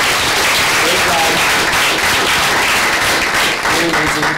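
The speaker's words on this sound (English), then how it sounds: "Let's give a round of applause for everybody who pitched." Loud, dense applause from an audience at an elevator pitch practice event, steady throughout with a few voices faintly mixed in.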